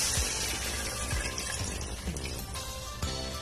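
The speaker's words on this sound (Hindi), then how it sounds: "ये मैंने 5 कप पानी लिया है वो मैं इसमें ऐड कर लूंगी" Five cups of water poured into a pot of pea dal, a continuous close splashing and gurgling of liquid lasting a few seconds, with no speech.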